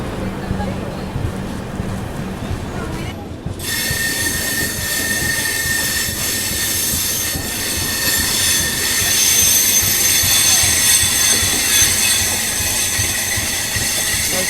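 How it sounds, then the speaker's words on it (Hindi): The Pune Kanyakumari Express departs on a curve, loud wheel squeal ringing out over continuous rolling rumble and steady clatter of the coaches, heard close from aboard the train. "क्या कर्व के साथ डिपार्चर ले रही है अपनी ट्रेन, ये देखो"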